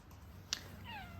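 A barn cat gives a short, faint meow with a falling pitch near the end, heard over low background hum and a brief click just before it.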